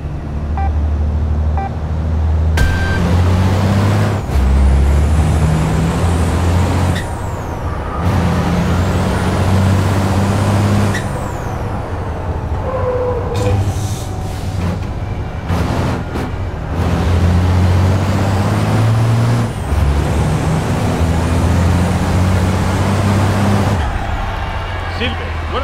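Racing truck engine in the FIA European Truck Racing game, a steady loud low drone with gear changes and brief drops, air brake hisses cutting in at intervals, while someone talks over it.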